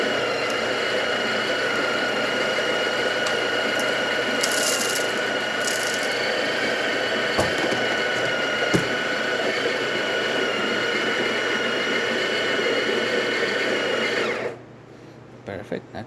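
Built-in grinder of a Breville espresso machine grinding coffee beans, a loud, steady, whirring mechanical drone held for about fifteen seconds before cutting off abruptly, close by, with a couple of faint knocks.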